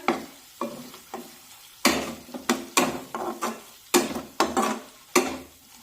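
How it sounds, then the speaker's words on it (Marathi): Coriander and cumin powder are sautéed in a pan, heard as about a dozen distinct spatula strokes scraping the pan in a fairly regular rhythm, close and clear with no talking. "आता हे सर्व मसाले 1 मिनिट छानपैकी परतून घेऊया।"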